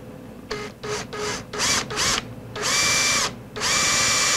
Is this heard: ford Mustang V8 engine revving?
no